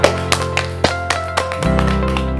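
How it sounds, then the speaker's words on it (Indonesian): A class of elementary school pupils claps hands during a maths lesson, giving a handful of sharp, evenly spaced claps that stop partway through, followed by a steady hum. "Tepuk tangan untuk kita semua."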